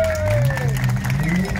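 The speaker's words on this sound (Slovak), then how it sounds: "poprosím, aby ste privítali nášho Lowridera, jeho golfika poriadnym potleskom" Audience applause greets a lowrider Volkswagen Golf at a car show, a short dense burst of clapping with a steady tone and faint voices in the background.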